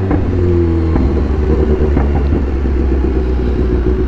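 A BMW S1000R motorcycle ridden through a city centre, its engine a loud, steady low rumble close by, with a brief rev change near the start and no voices.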